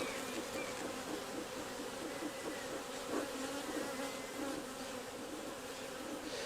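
A thick, continuous drone of many honeybees buzzing close by at their hive, steady and unbroken, with no talking.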